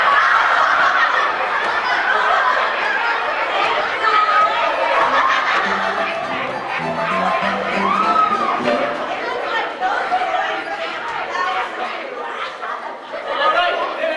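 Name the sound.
chickens clucking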